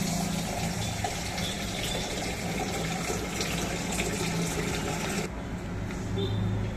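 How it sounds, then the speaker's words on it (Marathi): Water runs steadily while rice is washed twice in a home kitchen, a continuous, moderately quiet splashing gush with small shifts in texture near the end. "2 पाण्याने तांदूळ धुवून घेतलेत बघा."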